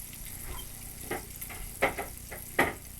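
Unsalted organic butter sizzles softly in a Lodge cast iron skillet, with a few sharp scrapes and taps as it is pushed around the pan, and no one speaks.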